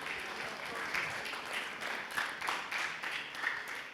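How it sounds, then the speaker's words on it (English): A banquet audience at a bicentennial dance event claps in a soft, even patter, distant and faint, with a few louder swells and murmuring voices beneath. "applause please"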